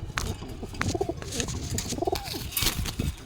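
A male pigeon coos close by in a loft, two distinct rounded bubbling calls with a soft rustle of background between them.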